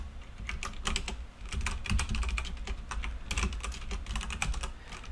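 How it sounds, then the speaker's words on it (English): Rapid, steady typing on a computer keyboard during Python coding, with close, crisp keystrokes clattering in irregular bursts throughout, no voices. "And as we're typing this"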